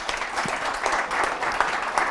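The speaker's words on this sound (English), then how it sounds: "and some applause for them" Audience applause at a youth manufacturing event, a brief, even wash of clapping from many hands that holds steady from start to finish.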